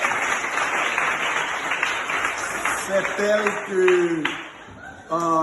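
Schoolchildren clap for the librarian at the opening of a school library, a dense burst of small hands applauding in a room, with a few high young voices calling out over it toward the end.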